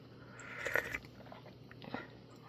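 Snacks being crunched and chewed during a Korean tea time with daffodil tea, close-up bites in short bursts with quiet pauses between them, no talking.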